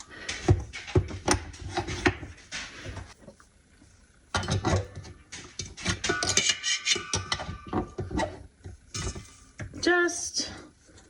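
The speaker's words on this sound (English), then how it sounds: "I'm just gonna move the dough around a bit with my mixer" A stand mixer on low speed works bread dough for Easter dinner. It makes uneven rubbing, knocking and clattering bursts with short pauses in between, close and fairly loud, and a voice talks over part of it.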